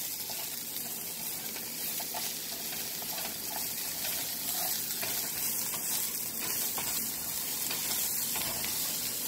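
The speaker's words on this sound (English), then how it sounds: "I've got my onions and mushrooms sauteing" Onions and mushrooms sautéing in a pan give a steady, even sizzle that holds at a constant level throughout, fairly close, with no talking.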